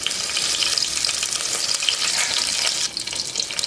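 Whole spices, cinnamon, cloves and cardamom, fry in hot oil in a pan with a loud, dense, continuous sizzle up close. It dips briefly near the end and no one speaks.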